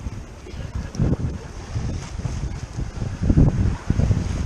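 Wind gusts over a Nova 28 sailboat under sail, buffeting the microphone in uneven low rumbles and surges, with water noise beneath.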